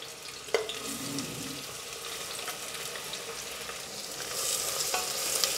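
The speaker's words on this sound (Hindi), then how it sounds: "प्याज को हम इस तरह से चलाते हुए गोल्डन फ्राई कर लेंगे।" Finely chopped onions fry in hot oil for a lentil pulao, a steady close sizzle with a single utensil clink early on and occasional stirring scrapes; the hiss swells slightly near the end, no voices.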